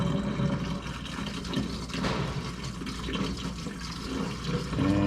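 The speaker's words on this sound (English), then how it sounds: "Put some radiator flush in here." Radiator flush pours into a car radiator, a steady gurgling, splashing liquid stream that runs continuously and fairly loud for several seconds with no voices.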